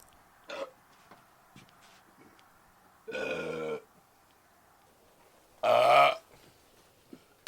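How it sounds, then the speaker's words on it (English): A person burps after drinking several cans of Bubly sparkling water: a short small burp, then two long, loud, croaky belches a few seconds apart, close up in an otherwise quiet room. "The burps are coming in waves."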